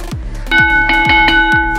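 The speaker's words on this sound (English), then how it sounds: "Come on, you heard that bell." A boxing round bell rings out during a high-intensity interval workout, a bright metallic ding repeated in quick succession with long ringing tones, loud and close, with no talking over it.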